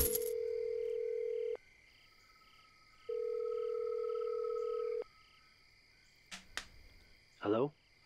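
Phone ringback tone on a call home in the video game Road 96: two long, steady electronic tones with a pause between them, followed by faint clicks and a short noise burst.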